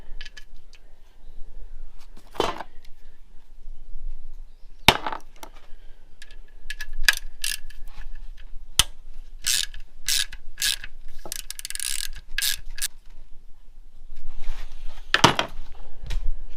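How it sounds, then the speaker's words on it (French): A 10 mm socket on a ratchet wrench clicks in short bursts of sharp metallic ratcheting while a Peugeot 316 turbo engine is taken apart, close and distinct in a quiet workshop. "choper une douille de 10 pour faire tout ça"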